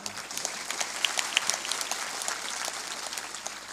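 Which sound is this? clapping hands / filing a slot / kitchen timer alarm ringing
clapping hands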